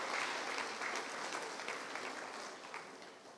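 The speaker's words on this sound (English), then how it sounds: "Give them a round of applause." Audience at a graduation ceremony clapping for class prefects, a dense steady applause with no voices over it that fades only slightly across a few seconds.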